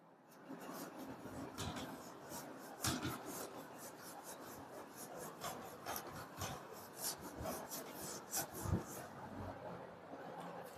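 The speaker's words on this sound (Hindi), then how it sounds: "मैं इसको रब कर रहा हूं।" Chalk writing is wiped from a board in a maths class, rapid back-and-forth scrubbing strokes that make a continuous rough rasp, close and steady with no speech over it.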